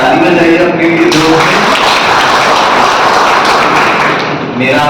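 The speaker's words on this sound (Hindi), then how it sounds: "एक बार ताली बजाइए अपने लिए।" Audience at a district collectorate gathering in Prayagraj breaks into loud, sustained applause, dense clapping filling several seconds close up, with a voice speaking briefly before it begins.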